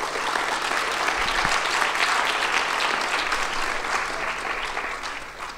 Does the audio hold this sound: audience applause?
yes